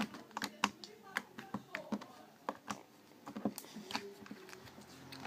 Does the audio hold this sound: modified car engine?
no